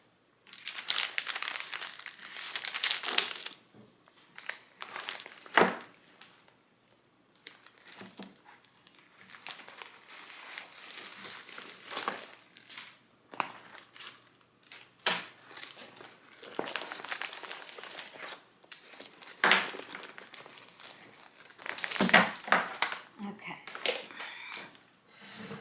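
Paper rustles and crinkles in repeated bursts while being sorted and handled for a gingerbread Christmas junk journal kit, close and intermittent, with a person talking at times.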